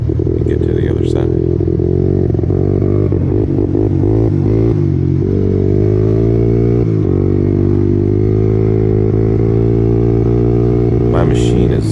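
A Honda TRX 400EX ATV engine runs rough at high RPM while riding across mud flats, a steady loud drone with faltering harmonics and uneven revs throughout, with a rider talking over it.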